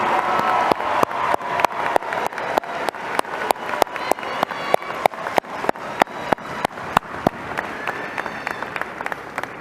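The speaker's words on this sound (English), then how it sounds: "Give them a round of applause" A crowd at a high school graduation ceremony claps for the graduates, a broad applause underneath a sharp, regular clap about every third of a second that keeps a steady beat throughout, gradually easing toward the end.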